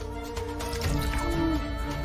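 Water is poured into a glass during an indoor drama scene, a soft continuous trickling and filling sound running for about two seconds beneath background music.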